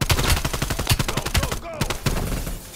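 Rapid automatic gunfire in Black Ops Cold War, loud repeated bursts of shots with a brief pause near the middle before firing resumes.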